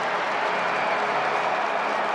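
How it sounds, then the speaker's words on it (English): A stadium crowd at a Johns Hopkins vs Syracuse college lacrosse game roars after a goal, a dense, sustained wash of cheering and applause at steady loudness. "That woke the crowd up."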